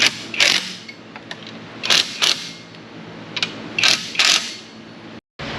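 A ratchet clicks in short bursts while bolts on an alternator rear bracket of a Firebird are tightened in a garage, several quick ratcheting runs spaced by pauses, close and fairly loud.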